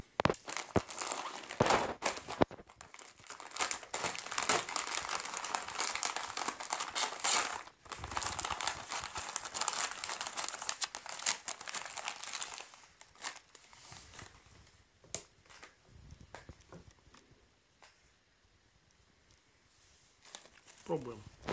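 Plastic packaging of a king crab flavoured wheat baguette snack crinkles and rustles loudly for about twelve seconds as it is torn open, then quieter handling and faint crunching follow.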